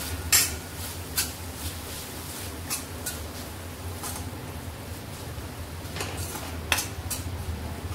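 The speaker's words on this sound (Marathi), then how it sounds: "जरा हलवून घेऊया।" A spoon stirs turmeric and other spices into tomatoes cooking in a pan for a quick spicy-tangy tomato rice. A few soft scrapes and light clinks sound at irregular moments over a steady low background hum.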